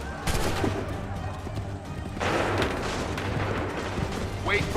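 A musket volley in Assassin's Creed III erupts as a broad, rumbling burst of massed gunfire over a battlefield, under shouted commands and a steady low drone.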